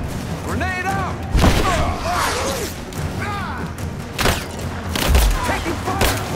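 Gunfire in Rise of the Tomb Raider: scattered shots and heavy thumps crack through the scene, some sharp impacts standing out, while voices shout over the firefight.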